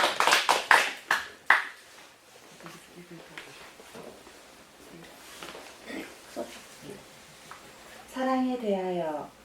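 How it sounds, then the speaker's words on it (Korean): A burst of audience clapping fades into background murmur, then a voice begins speaking near the end. "박수 한번 쳐주세요."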